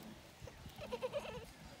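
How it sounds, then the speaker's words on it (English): A baby goat bleats in a few short, faint calls near the middle, set among soft household noise by the sea. "You have a baby goat?"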